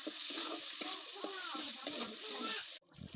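Chicken halim base of ground chili, turmeric and chicken pieces stirred and browned in a hot pan, with steady sizzling broken by repeated scraping spoon strokes, ending abruptly in near silence with a faint low voice.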